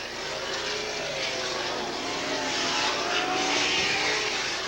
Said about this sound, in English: Keith Campbell in car number 53 of Albany, Illinois, giving up the battle as he quickly darts through the pit area